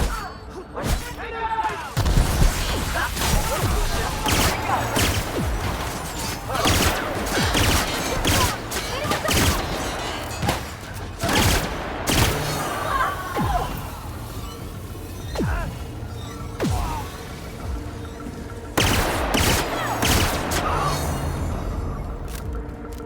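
Gunfire in The Outer Worlds: dense bursts of shots, rapid automatic fire and heavy thuds crash in close, irregular volleys for the whole stretch, with brief lulls between them.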